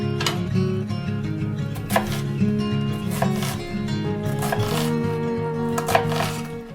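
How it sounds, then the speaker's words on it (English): A knife roughly chopping vegetables for chicken noodle soup on a cutting board, quick irregular thuds repeating close up throughout, with no one talking. "We've got pieces, very rough chop, but it was very, very quick"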